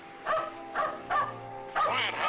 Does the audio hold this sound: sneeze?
no